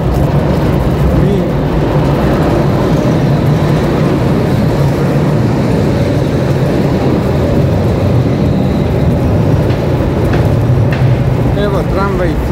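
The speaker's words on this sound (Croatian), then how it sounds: "evo tramvaj" A tram passes along a city street during an early-morning walk toward Goljak, a loud steady rumble filling the whole stretch with faint voices mixed in.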